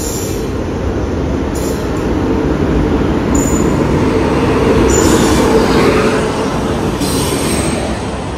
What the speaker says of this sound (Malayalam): കൊച്ചുവേളിയിൽ നിന്ന് അമൃത്സർ പോകുന്ന വീക്കിലി സൂപ്പർ ഫാസ്റ്റ് ആണ് ഈ വരുന്നത്